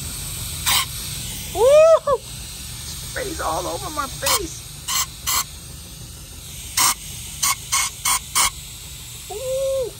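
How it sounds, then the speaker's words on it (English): Short, sharp hissing blasts from a compressed-air gun blow brake cleaner out of cleaned EGR passages on a Honda Accord, repeated at irregular intervals while a person exclaims and vocalizes between bursts. "So I'm gonna use my air gun to blow out all that brake cleaner."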